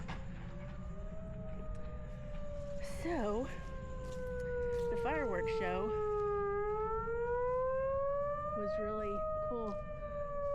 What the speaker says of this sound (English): Testing the tornado alarm.